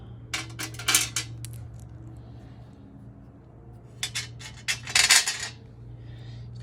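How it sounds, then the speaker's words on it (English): Metal 10 mm bolts for a Honda Integra dual fan shroud clink and rattle as they are handled, in two bursts of bright jingling over a steady low electrical hum, with quiet gaps between. "Now I'm going ahead and use some 10 mil bolts. We'll put it from the inside like that."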